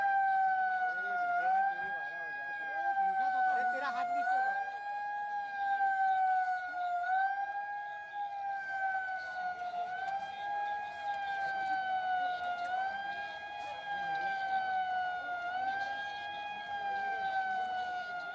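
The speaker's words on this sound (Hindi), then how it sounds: "मध्य प्रदेश में कल सायरन बजा ताकि लोग जागरूक हों।" A public warning siren sounds across Madhya Pradesh as a COVID awareness alert, its steady wailing tone rising and falling in slow repeated sweeps, loud and continuous throughout with no speech.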